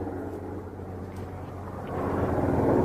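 A low, steady airplane rumble passes over Southwest Portland, a constant drone that swells slightly toward the end, with no talk.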